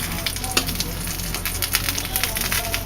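Corn fritter batter sizzles and crackles steadily in hot frying oil, a close, continuous fry with small pops scattered throughout and no talking.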